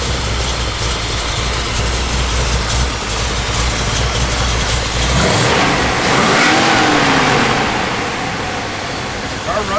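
A 1972 Dodge Challenger Rallye with a lumpy cam revs hard and loud, then drops back toward a rough idle, with some talk over the engine.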